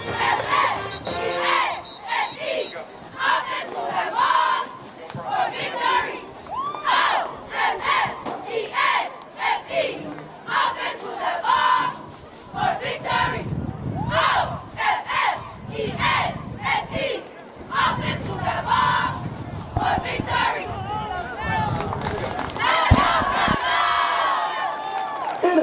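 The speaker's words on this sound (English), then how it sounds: "Cheerleaders are getting this crowd ready for this game." Crowd noise at a high school football game between the Davenport Broncos and Auburndale Bloodhounds, with cheerleaders chanting and fans shouting and cheering in loud, rhythmic bursts that continue steadily throughout.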